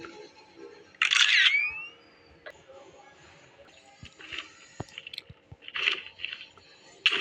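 Camera shutter snapping a selfie in Minecraft, a bright loud click-whir burst followed by quieter game clicks and rustles, with a few more shutter-like bursts later.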